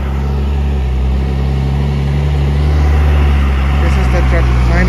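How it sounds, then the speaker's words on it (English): A truck hauling sand arrives with its engine running, a loud, steady low diesel rumble that builds slightly, with voices talking over it. "Okay, this is the truck."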